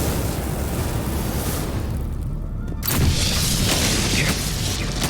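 A loud, roaring explosion bursts out in the Mass Effect 3 game, with dense rumbling noise that briefly drops away and then surges back as a heavy boom.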